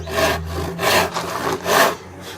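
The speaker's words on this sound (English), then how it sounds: "I'm still sawing away at the back bottom, in this case the wood." Three long, rasping strokes of a handsaw cutting through a wooden panel at a slight angle, close by and steady in rhythm, each push-pull swelling and fading.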